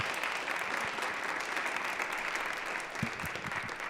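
An audience at a fall 2018 college business pitch competition claps in sustained applause, a dense even patter of many hands that holds steady throughout with a few louder claps near the end, no talking.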